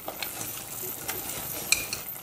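A semolina muscat mixture with ghee being stirred in a pan, giving soft scraping and light sizzling with a few sharp utensil clicks, close and fairly quiet, with no speech.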